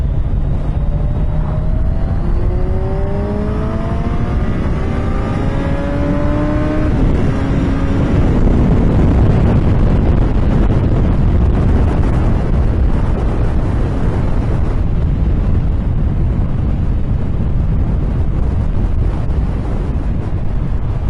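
A 2017 Kawasaki Z1000SX sport motorcycle engine climbs through several rising revs as it accelerates through the gears on the road, then drones on amid heavy wind buffeting.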